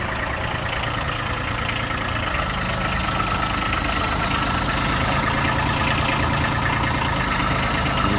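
A brand new Kubota 2301 compact tractor engine idles steadily at close range, a constant low diesel drone with no talk over it.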